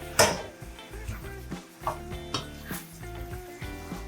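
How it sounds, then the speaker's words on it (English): Minced meat being stirred in a pan, with scraping strokes and light knocks of the utensil against the pan over a faint sizzle, close by and without talking. "Now we'll have to cook the mince."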